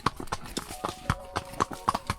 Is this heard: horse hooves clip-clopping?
yes